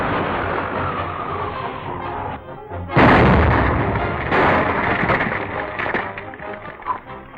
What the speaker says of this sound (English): Spider will think we've been killed by the explosion